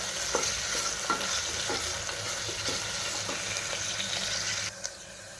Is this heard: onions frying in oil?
yes